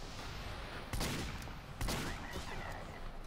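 Gunfire in the game Team Fortress 2 during a competitive match, with two sharp, loud bursts about a second apart standing out over a continuous busy backdrop of game noise.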